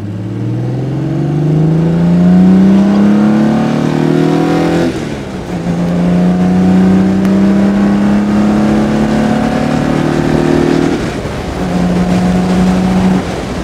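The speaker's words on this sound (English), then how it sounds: "We're going to put her into second gear and show you her acceleration." A 1964 Jaguar 3.8 litre Series 1 roadster pulls hard in second gear, its loud engine note climbing steadily, then dipping at shifts before climbing again, heard up close from the passenger seat.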